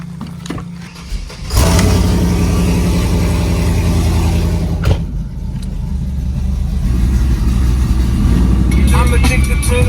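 An LSX-swapped C6 Z06 Corvette engine rumbles loud and close as the car backs up, starting after a brief quiet moment and holding a steady low drone, with voices talking over it.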